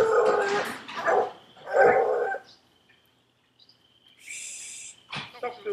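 Coonhound pups bay at a treed raccoon in loud, ragged bursts of barking. A quieter lull with faint chirps follows before another sharp bark.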